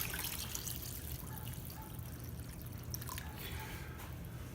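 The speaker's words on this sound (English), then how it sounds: "Pour in some water." Water is poured into a cooking pot of chicken and pork drippings on an induction stove, a faint continuous splashing trickle with small drips and gurgles through the pour.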